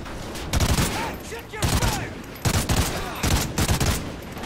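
Gunfire in the video game Call of Duty: Ghosts, several loud bursts of rapid automatic shots in quick succession with short gaps between them, up close.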